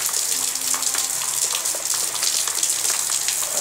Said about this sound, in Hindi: और बारिश चालू है